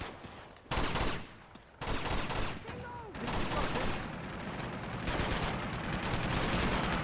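Rapid gunfire from the Uncharted 2 video game, dense bursts of loud automatic shots in long stretches broken by brief pauses, with a voice talking in between.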